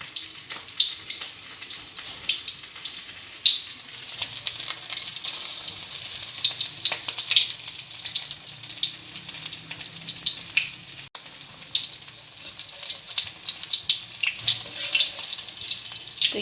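Potato balls fry in hot oil with a dense, continuous crackling sizzle, close and steady throughout, with scattered pops and no talking.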